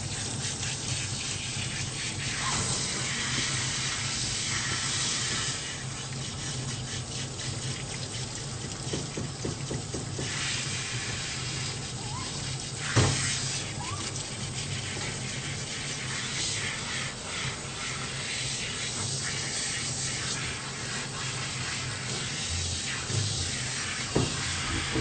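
Water sprays steadily and close while a pet's ears are washed during a shampoo, a continuous hissing rush that lasts throughout with small shifts in flow.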